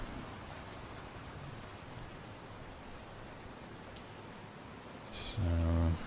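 Rain in the GodSIM video game on a cold autumn night, a soft, steady patter at low level with a short louder burst near the end.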